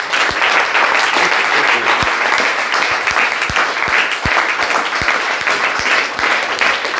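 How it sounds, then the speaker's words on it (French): Dense, sustained applause from a church congregation fills the space, with a few louder individual claps and thumps standing out, steady throughout with no pauses. "Applaudissons au Seigneur."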